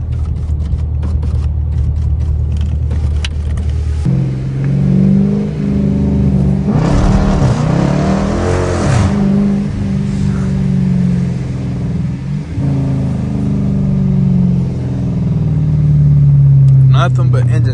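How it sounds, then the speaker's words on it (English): A Dodge Challenger R/T's 345 engine revs loudly and close in snowy conditions, climbing and falling through several throttle blips over a heavy, rumbling idle. "I promise you it ain't nothing but engine talk right now for the 345."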